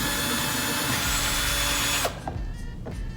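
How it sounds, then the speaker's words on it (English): Power drill boring holes through a plastic toy for a lamp craft, a loud steady whirring drone for about two seconds that cuts off, followed by a few faint clicks and handling sounds. "Once you've drilled a hole through your toy that is big enough for the pipe to pass through"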